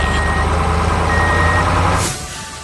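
An orange truck reverses with a steady high beeping warning tone over a loud rumbling engine, then the engine noise drops sharply near the end.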